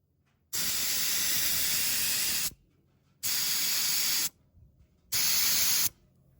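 Loud bursts of air hissing out of a tire through a tire deflator, three separate releases of a couple of seconds each with short quiet gaps between, close up.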